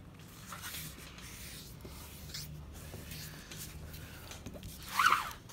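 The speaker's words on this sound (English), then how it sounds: "I'm going to fold it in half" Paper is folded in half by hand, soft rubbing and sliding across a quiet room, ending in a short, sharp crease-like swipe near the end.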